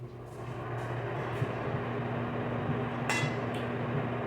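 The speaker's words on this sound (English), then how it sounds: "In my microwave, I'm melting some butter with the leftover" A microwave oven hums steadily while melting butter with leftover applesauce, a constant close drone with a couple of brief clicks and clinks near the end.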